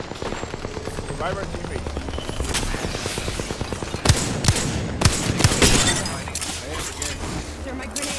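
Rapid automatic gunfire and sharp single shots crackle in an Apex Legends battle royale match, with a steady burst early on and louder, closer shots later, under a player's voice talking over the action.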